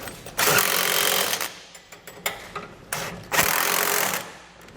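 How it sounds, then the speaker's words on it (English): Hitch support bolts on a 2017 Chevrolet Silverado get tightened with a 19mm socket and wrench, giving close, rapid ratcheting bursts in short rhythmic runs with brief pauses between. "We'll now tighten up the support gussets that we put on here with a 19mm socket and"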